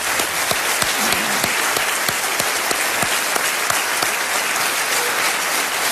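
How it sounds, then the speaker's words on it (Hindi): Loud, dense studio audience applause for a contestant who has just won one crore rupees on a quiz show, steady throughout with a few sharper claps standing out near the front. "अभिनंदन जोरदार तालियों के साथ इनका करते हैं"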